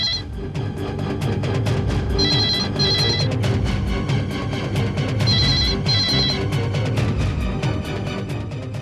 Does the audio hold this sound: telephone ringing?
yes